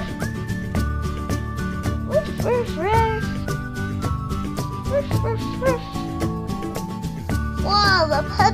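Puppies in a pet-themed tablet game barking and yipping in quick high-pitched bursts, several short barks and whimpers scattered throughout, close and lively over light background music.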